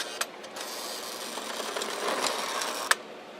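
Postwar Lionel NW2 model locomotive running on track, a faint, steady mechanical whir and hum with a few small clicks, heard alone without talk.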